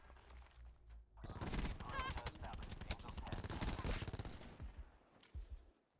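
Gunfire in a video game crackles in a dense, sustained burst of rapid shots, loud and close, starting suddenly after a quiet low rumble and tapering off near the end.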